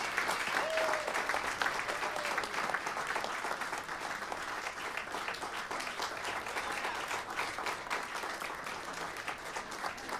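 An audience at a jazz talk applauds steadily as a guest makes his way to the stage. The dense, even clapping holds at moderate loudness for the full stretch, with a faint murmur of voices underneath.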